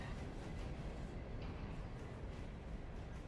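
A train in the Railroader simulation slows under its brakes while pulling in, heard as a steady, dense rumble of rolling wheels and brake noise that holds at an even level throughout, without any talk over it.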